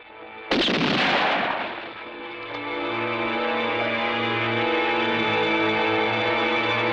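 A single loud, sharp gunshot cracks out in a 1970s western standoff, followed by a long ringing, echoing tail that sustains and hums with a distorted, effected quality, with no talking.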